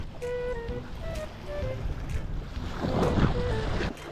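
Wind gusting over open sea around a small fishing boat, a steady broadband rush with water noise that swells louder toward the end, with faint tonal sounds in the background and no talking.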